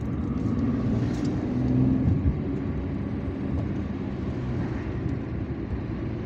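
A car drives through the streets of Algiers, a steady low engine and road rumble that stays loud and continuous throughout, with no voices.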